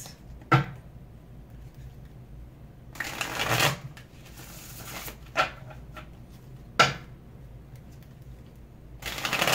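A deck of tarot cards is shuffled in several short riffling bursts, with crisp card snaps between stretches of quiet, close and fairly soft.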